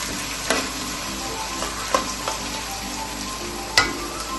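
Ginger, garlic and green chillies sautéing in oil in a pan for lubika pickle, a steady low sizzle with a few sharp clinks of a stirring spoon against the pan, no talking.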